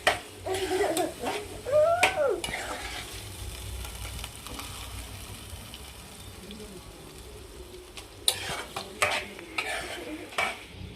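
Mint chutney being stirred in a pan over a low flame, with scraping spoon strokes bunched near the start and a few more near the end over a faint steady sizzle.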